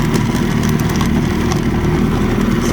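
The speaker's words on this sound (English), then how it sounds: "Bit of rattling in the hood." A 1968 Evinrude 18hp outboard motor runs steadily and loud up close, a continuous droning rumble with a faint rattle from the hood, and no voices.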